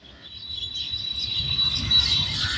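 Birds chirp and tweet in a forest, steady high calls over a soft low rumble that grows a little louder toward the end.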